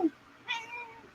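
A house cat lets out a short, close meow, a faint tonal cry standing alone in a quiet room.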